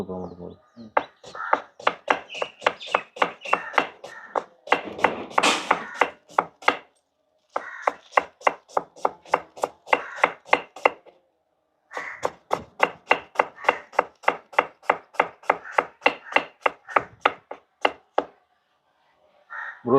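Raw chicken hacked on a board with a knife for Kerala-style stuffed chicken, a long steady run of sharp, close, evenly spaced chops in several bursts with brief pauses.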